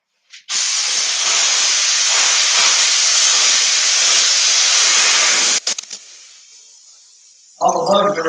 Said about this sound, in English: Another good use for a steam machine is getting bugs off.